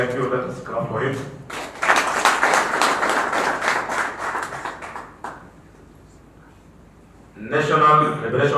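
An audience at a political alliance gathering clapping for a speaker, a sustained round of applause lasting about three seconds between stretches of someone speaking, which resume after a quiet pause.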